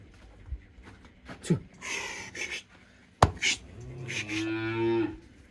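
Simmental bulls and cows on a farm give several loud, close moos, the last one long and drawn out, with snorts and a little background noise between calls.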